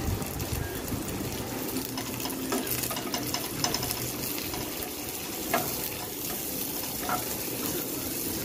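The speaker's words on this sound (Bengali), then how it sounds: "আর দেবো পেঁয়াজ কুচানো, আর এর মধ্যে দেবো একটু কালো জিরে।" Chopped onion with black cumin fries in a pan for a bottle-gourd peel dish, giving a steady, close hiss and sizzle with faint clinks and stirring scrapes throughout, no voices.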